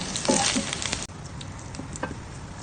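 Garlic, onion and ginger hitting hot oil in a frying pan, a bright crackling sizzle that bursts up loudly at first, then settles into a softer steady frying hiss with occasional pops, no talking.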